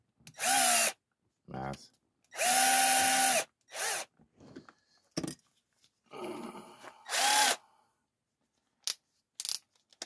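A power screwdriver drives screws in several short bursts of high whirring, each a second or less with gaps between, close and loud, alongside clicks and clatter of work on a motorcycle; a voice speaks briefly.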